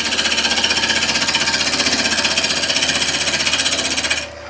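A wood lathe turns a timber bowl while a tool takes a gentle cut, giving a loud, rapid, even chattering buzz that runs steadily before dropping away abruptly at the end.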